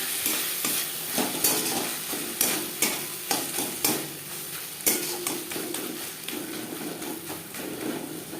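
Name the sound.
stirring onion, tomato, ginger and green chilli frying in pan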